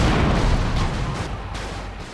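A tank's main gun booms in GTA Liberty City Stories, one heavy blast at the start rolling into a dense, loud rumble that slowly fades over about two seconds, with no voices.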